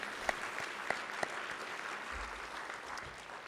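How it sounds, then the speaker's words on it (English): A graduation audience gives sustained applause, a steady wash of many hands clapping in a large hall, with a few sharper claps standing out early on. "Let's give them a big round of applause."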